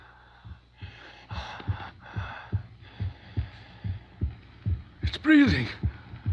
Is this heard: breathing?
yes